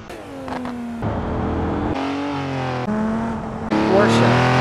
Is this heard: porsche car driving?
yes